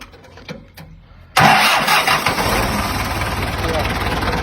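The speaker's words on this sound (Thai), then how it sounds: "เดี๋ยวเราลองมาฟัง เสียงเครื่องกันนะครับ" After a moment of faint clicks, a Ford 6610 tractor's diesel engine cranks and catches with a sudden loud roar, then settles into a rough, steady running rumble nearby.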